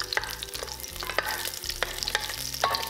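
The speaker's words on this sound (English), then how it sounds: "heat up 2 tablespoons of vegetable oil. Add 1 cinnamon, 3 pieces of star anise, 3 cloves, and 6 cloves of garlic" Cinnamon, star anise, cloves and garlic fry in hot vegetable oil with a bright, continuous sizzle. Frequent stirring adds quick scraping clicks, close and fairly loud, with no voices.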